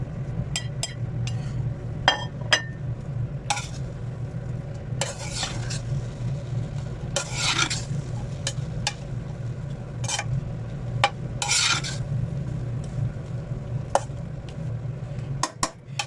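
Chinese fried rice with egg and green chili is stir-fried in a pan, with a steady sizzle under repeated sharp clinks and scrapes of a metal spatula against the pan.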